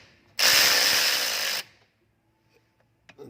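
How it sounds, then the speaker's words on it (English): A power tool spins a 14mm socket off a Lexus IS 250 front brake caliper bolt, a loud whirring burst of just over a second, then near silence with a few faint clicks and knocks. "with a 14mm wrench or socket. You want to go ahead and remove these."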